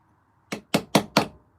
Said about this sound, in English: So I'm using a few different size chisels.